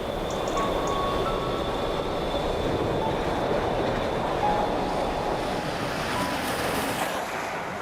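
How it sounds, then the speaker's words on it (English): The steam locomotive Tornado rumbles past a station at speed, a broad steady roar with faint squeals and hiss, fairly close, easing off toward the end. "Fast train approaching."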